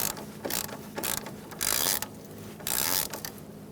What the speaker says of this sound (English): I'm going to secure this bracket down first, just so I'm more stable up there when I do my line